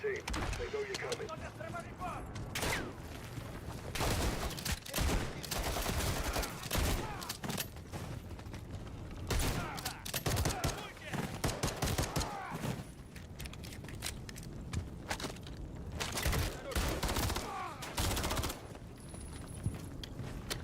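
Shotgun and other gunfire in the Modern Warfare 3 campaign, dense repeated close blasts and bursts for the whole stretch, with voices talking in between.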